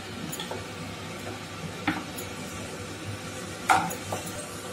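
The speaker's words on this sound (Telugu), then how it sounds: "సన్నగా తరిగి పెట్టుకున్న ఎర్రగడ్డ క్యారెట్ పచ్చిమిర్చి వేసుకొని కలుపుకోవాలి" Chopped onion, carrot and green chilli stirred in a frying pan give soft scraping and a few light knocks of a spoon against the pan over a gentle background of frying.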